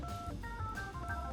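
Touch-tone dialing beeps on the God phone in the video game The Walking Dead: Saints & Sinners, a quick series of four or five short tones over low background game noise.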